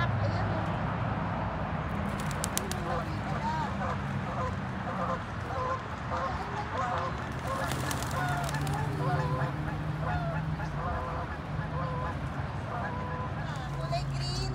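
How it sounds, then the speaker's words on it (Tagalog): A duck at a park pond gives repeated honking quacks, fairly close and moderately loud, mixed with other fowl calls while people talk nearby in a busy outdoor setting. "Mother duck."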